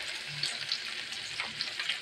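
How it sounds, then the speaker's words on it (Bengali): Hilsa fish pieces coated in turmeric and salt frying in a pan, a soft, steady oil sizzle with faint crackles and pops, close and moderately quiet. "এই যে ভাজতেছি"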